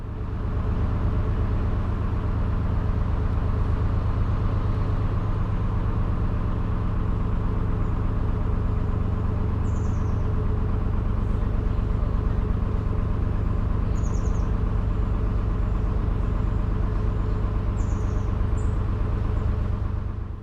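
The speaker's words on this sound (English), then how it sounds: "that busy main road runs very close to the canal here on the right. You can't really see it, but you can certainly hear it." Traffic on a busy main road beside a canal keeps up a steady, close engine rumble and tyre roar throughout, with a few faint bird chirps above it.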